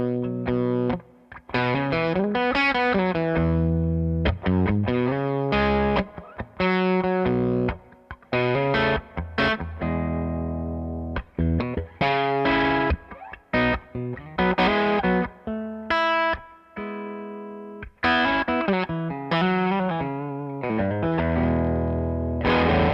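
Electric guitar played through a Jim Kelley Single Channel Reverb amp, crisp overdriven chords and single-note phrases in stop-start bursts with short gaps, close and clear, no voices.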